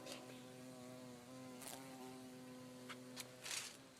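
A bee buzzes steadily around a Chevy Tahoe outdoors, a continuous droning hum with a few brief louder swells as it flies closer, heard alone without talk.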